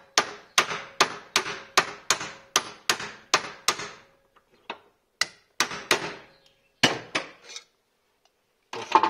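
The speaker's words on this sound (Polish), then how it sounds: "No to teraz włożę taki dłuższy śrubokręt, żeby zacząć wybijać tą tulejkę." A long screwdriver is hammered to drive out a bushing, giving a rapid series of sharp metallic strikes at close range that slow into sparser, spaced blows with short pauses, with no voices.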